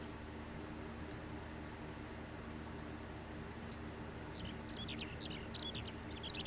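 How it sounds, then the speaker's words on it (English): Ambient bird chirps from the farming game Harvest Moon: Another Wonderful Life sound faintly, arriving as quick twittering bursts late over a steady quiet hiss. "instead of just like the bird noise"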